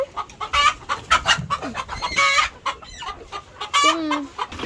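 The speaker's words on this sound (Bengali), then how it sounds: "তো এই যে ওদের যে এখানে ফার্মি মুরগিগুলো দেখছেন," Farm chickens kept in a rooftop coop, a close, busy chorus of repeated clucks and squawks from several birds.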